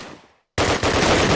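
MP44 fire in a Call of Duty match: a sound tails off into a brief silence, then a loud, dense burst of automatic gunfire carries on to the end.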